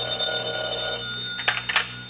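A vintage 1940s telephone bell rings in short, close bursts, a couple of quick jangles after a faint fading tone, with no voices over it.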